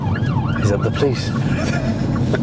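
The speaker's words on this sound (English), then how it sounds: "he hears the sirens from the police car" A wavering police car siren sweeps up and down through traffic noise, with voices talking over it inside a vehicle.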